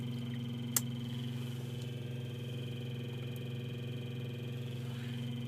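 A car engine idles steadily after a cold start, having sat unused since morning. The low, even hum holds close and constant throughout, with one brief click near the start.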